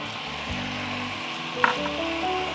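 Freshly squeezed orange juice and six tablespoons of whiskey hit a hot pan while cooking wild game, giving a steady close sizzle and frying hiss with a small splash partway through.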